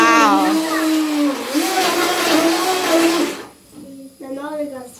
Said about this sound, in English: The motor goes fast. So fast.